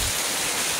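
Rain falls steadily outdoors during work fitting a rear bumper to a Toyota Calya or Daihatsu Sigra, a dense, even hiss with no breaks and no voices.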